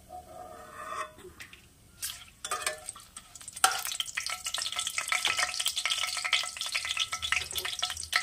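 Vegetables for a Bengali-style winter veg curry, with a bay leaf and dried chilli, fry in a pan with scattered stirring clatters first, then a steady close sizzle and crackle that continues to the end.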